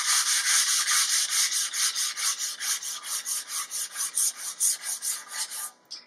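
Hand sanding a wood piece with 180-grit sandpaper, a loud, close, steady rhythm of about two dozen back-and-forth rasping strokes that stops abruptly near the end, with no voices.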